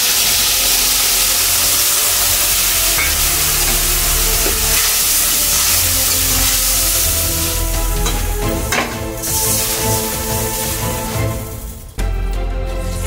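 Mustard paste and green chillies hit hot oil in a pan and sizzle loudly with a dense, continuous hiss, with stirring and clatter breaking through toward the end.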